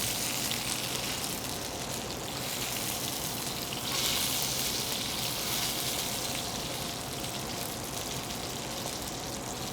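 Pre-roasted cremini mushrooms sizzle in a hot pan, a continuous crackling hiss that swells slightly partway through, steady and close with no voices.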